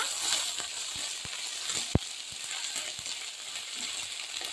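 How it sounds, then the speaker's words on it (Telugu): Ginger-garlic paste frying with onions in a pan for mint rice, a soft, steady sizzle with a few light taps and one sharp knock of a utensil. "అల్లం వెల్లుల్లి పేస్ట్ వేసి రెండు నిమిషాలు ఫ్రై అయిన తర్వాత"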